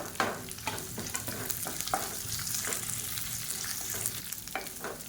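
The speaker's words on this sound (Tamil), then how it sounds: "இந்த ஸ்டேஜில் மீடியம் சைஸாக ஒரு பெரிய வெங்காயம் நீளமாக நறுக்குனதை சேர்த்துக்கலாம்." Sliced onion sautéing in a hot pan with garlic for a roadside-style tomato chutney, a steady crackling sizzle broken by repeated scraping stir strokes, close and clear with no talk.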